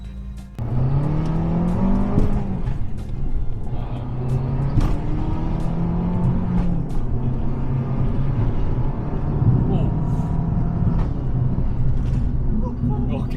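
An Abarth 500 small hatchback accelerating hard on an empty road, a steady loud engine drone climbing in pitch through the gears from inside the cabin, with faint clicks over the top.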